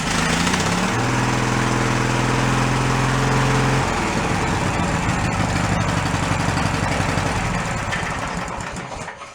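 A junked Snapper lawn mower engine runs loud and close, holding a steady high rev, then dropping to a rougher, lumpier idle that fades slightly toward the end.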